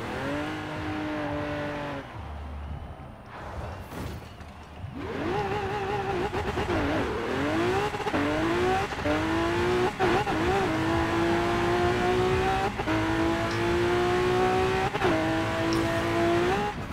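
A Lamborghini Aventador LP in a Forza racing game revs and accelerates, the engine tone climbing through repeated gear shifts with brief tire squeal, loud and continuous after a short quieter lull.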